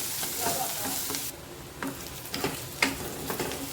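Onions and cashews frying together in a pan for matar pulao: a soft, continuous sizzle with occasional stirring scrapes, fairly close and moderately quiet, with no voices.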